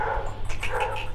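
A large dog, about 28 inches tall and two years old, kept in Kohat, gives a short series of quick yips and whimpering barks close by over a steady low background hum.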